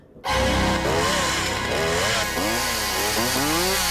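A chainsaw revs in a horror film scene, loud and continuous, its engine pitch rising and falling in repeated sweeps over a rough, roaring drone.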